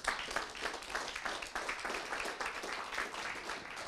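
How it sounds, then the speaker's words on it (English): An audience at a green technology conference stage in Austria claps together in steady, continuous applause, with a dense, even roar of hands and no pauses. "Give him a big applause"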